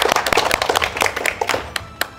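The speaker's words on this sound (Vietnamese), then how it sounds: "vỗ tay cái nha" A small group of people clapping their hands at a staff Tet bonus celebration, a quick burst of uneven, overlapping claps, close and fairly loud, with no talking.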